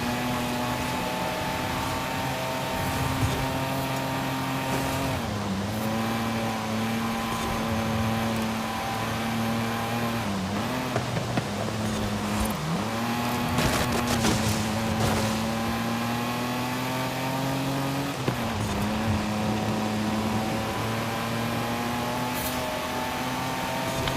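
A car engine in the Forza Horizon 5 racing game drones at a steady high pitch throughout. The revs dip sharply and climb back several times with gear shifts, and faint tyre and impact noises occasionally break through.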